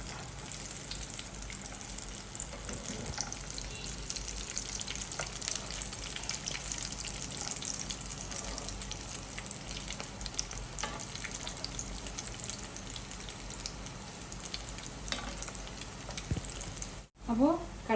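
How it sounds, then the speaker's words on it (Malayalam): Chicken cutlets fry in hot oil with a steady, dense sizzle that holds throughout, ending with a brief clatter and a short pause near the end. "അപ്പോൾ കട്ട്ലറ്റ് ഇവിടെ ഫ്രൈ ആയിട്ടുണ്ട്."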